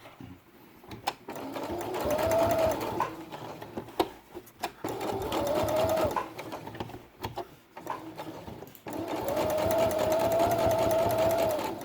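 A sewing machine backstitches a ribbon onto felt for a quiet book page, running in three bursts of rapid mechanical chattering with short pauses between them, close and fairly loud.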